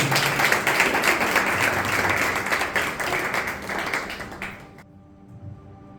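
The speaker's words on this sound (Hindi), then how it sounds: "प्लीज तालियां रुकनी नहीं चाहिए।" Audience clapping at a church youth Sunday service as a guest is invited onto the stage, dense steady applause that tapers off and stops near the end.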